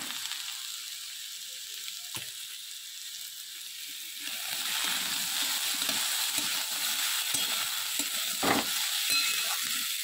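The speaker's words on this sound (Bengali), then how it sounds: "চলো এবার আলুটা দিয়ে দিই।" Potatoes and tomato go into hot oil with green chilli and panch phoron: a steady sizzle of frying that swells louder after the addition, with occasional clinks of stirring, close and without talk.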